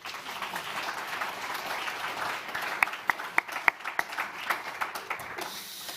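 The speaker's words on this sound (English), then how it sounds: "So please give them a round of applause." An audience at the Conduit Young Innovator Awards claps steadily, a moderate round of applause with a few sharper close hand claps standing out near the end before it fades.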